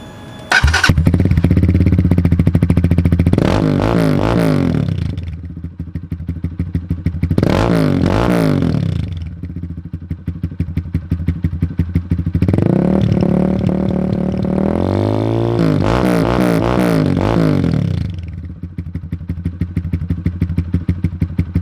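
Lifan KPR200 motorcycle idling loudly with its exhaust silencer removed, a harsh rapid popping idle broken by four strong throttle blips that rise and fall, close and raw, with no talk.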